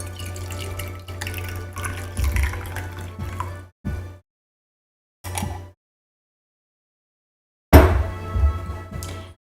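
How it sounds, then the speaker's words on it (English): Brewed Vahdam green tea poured from a pot into a cup in several separate bursts of trickling liquid with silent pauses between them, the last pour louder and splashier, no talking. "I also really want to show you this lovely pour."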